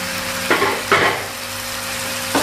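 Boiled corn, green beans and carrots being stirred in a hot pan, with a steady sizzle underneath and a few louder scraping stirs standing out near and clear.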